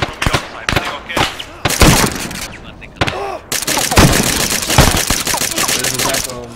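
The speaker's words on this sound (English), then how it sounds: "We see those shots to the south! One shooter!" Rapid bursts of gunfire from a video game firefight, with single cracks and sustained automatic volleys repeating loudly throughout, mixed with brief radio-style voices.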